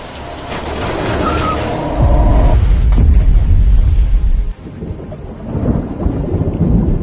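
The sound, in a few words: heavy rain hammering a car windshield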